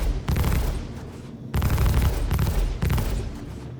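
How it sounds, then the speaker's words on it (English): Rapid automatic weapon fire in the Star Citizen space game comes in three sustained, loud bursts of dense shots, each bringing a booming low-end roar with brief gaps between them. "I'm trying to shoot these guys."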